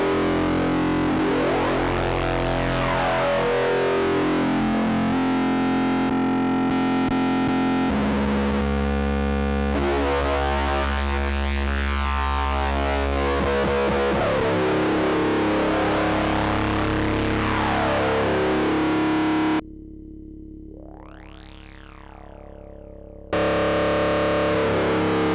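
Electric guitar through a Fuzzbillion fuzz distortion pedal with LED diode clipping and the top end rolled off, thick sustained chords and a brief lone bending note, loud and close with no voices.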